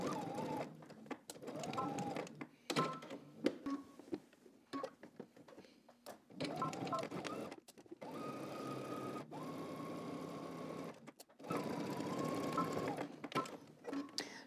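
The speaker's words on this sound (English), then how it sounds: "we're gonna go ahead and stitch our pockets together" Sewing machine stitching garment pockets together in repeated short and longer runs, with whirring motor tones and gaps of near silence between them.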